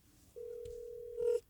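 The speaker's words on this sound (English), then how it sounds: "And this phone is now ringing." A steady electronic tone sounds on a private PBX telephone line, one continuous ring-like note lasting about a second with a brief click in the middle, fairly faint and heard alone.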